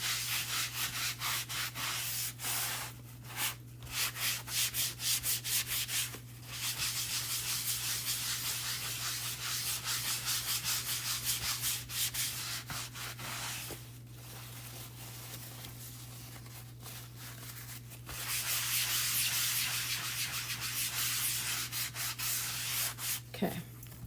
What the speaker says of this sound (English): we're kind of buffing it in